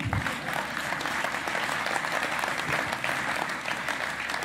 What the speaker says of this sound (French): Vous pouvez applaudir Nathalie Pereira, qui est mon binôme